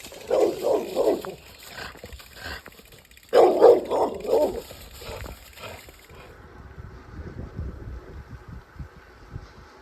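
Dogs barking along a gravel bikepacking route on the Arkansas-Missouri state line, two bursts of several loud, close barks separated by a pause, then fading into quieter rustling and outdoor background.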